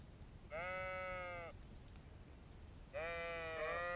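Sheep in the video game Kingdom Come Deliverance II give two clear, wavering bleats about two seconds apart, close and moderately loud over a quiet ambient background.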